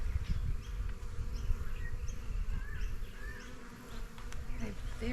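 Honeybees buzz around an open hive as a honey super is added during beekeeping. A dense, continuous close-up drone has individual bees whining past, and faint bird calls come through behind it.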